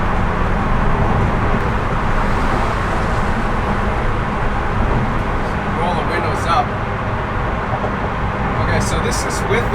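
An E92 BMW M3 track build with a gutted interior accelerates normally with the windows up. A loud, steady engine and road drone fills the cabin, with faint higher tones showing briefly near the end.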